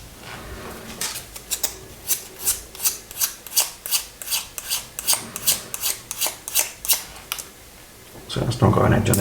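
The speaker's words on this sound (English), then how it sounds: "So you have to just sand the ends off." Ends of a small model cannon shell for a 1/24 scale Airfix Spitfire Mk IX being sanded to remove burrs, a rapid even series of about eighteen short rasping strokes, close and crisp, ending in a louder rustle.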